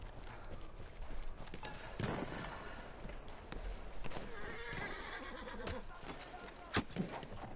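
A horse in a video game gallops with steady clip-clop hoofbeats and gives a whinny, with thuds and other game sounds mixed in. People talk over the action throughout.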